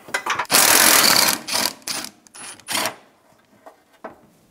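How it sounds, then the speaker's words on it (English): A ratchet driving a 12 mm socket on a long extension loosens the bottom radiator bolt on a 2000-2006 Toyota Tundra 4.7L V8: bursts of close, loud clicking, then fainter scattered ticks and clinks with no talk. "we're going to put a long extension through with a 12 millimeter socket to remove the bottom bolt for the radiator"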